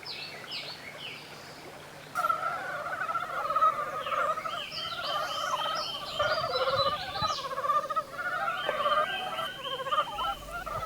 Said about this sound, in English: frogs are carried away, staging a loud orgy